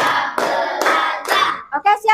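A classroom of children claps together in a steady counted rhythm, four loud broadband claps in a row, then short voiced calls close by.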